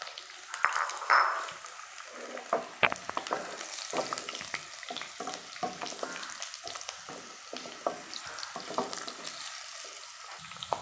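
Curry leaves and chopped dried red chillies sizzling in tempering oil, a close, crackling spatter with sharp pops at first, then steady sputtering and stirring clicks throughout.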